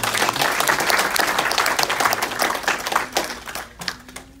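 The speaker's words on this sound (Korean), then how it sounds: "우리가 서로 격려의 박수를 해주셨으면 감사하겠습니다" A church congregation at a memorial worship service for founding president Syngman Rhee claps in encouragement, a dense steady round of applause that thins and fades toward the end.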